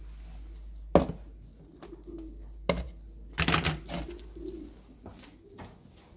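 Pigeons coo softly nearby in low, repeated calls, with occasional sharp knocks and a burst of wing flutters or scuffling among them.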